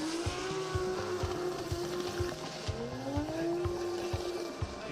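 A Formula Drift car sliding through a qualifying run at Sugo, Japan, its engine holding a steady high drone with tire squeal rising and falling over a continuous engine roar.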